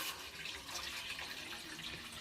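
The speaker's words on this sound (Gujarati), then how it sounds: "એક થાળી એક આપણે પાણી નાખી દીધું આમાં કડાઈમાં ગરમ કરવા માટે" Water pours in a faint, continuous splashing stream into a kadai for heating, brief and alone with no voices.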